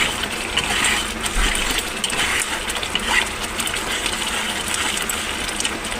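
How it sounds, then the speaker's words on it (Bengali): Spices with turmeric frying in hot oil in a pan for a paneer dish, giving a steady dense sizzle and spatter that continues throughout with no talk. "গ্যাসটা একটু আস্তে করে দিচ্ছি যেহেতু ছিটছে"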